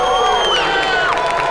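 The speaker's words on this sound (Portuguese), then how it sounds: "Torcida empolgada." Excited crowd cheering and shouting at a packed Brazilian combat sports event in a samba school hall, a steady loud roar of voices with whoops rising over it.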